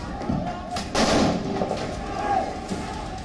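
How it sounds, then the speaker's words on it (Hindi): Security personnel fire automatic rifles during a violent protest. Several loud, sharp reports sound one after another, with crowd noise and faint voices underneath. "अंदर तैनात सुरक्षा कर्मियों ने ऑटोमेटिक राइफलों से एक के बाद एक कई राउंड गोलियां चलाई।"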